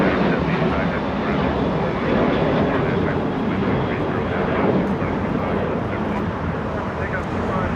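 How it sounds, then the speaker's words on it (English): Boeing 737 departing from runway 25 right at Los Angeles International Airport, a continuous broadband jet roar heard from a distance, steady throughout with some wind noise. "United 387 heading to Houston, Texas, 737 using 25 right for departure."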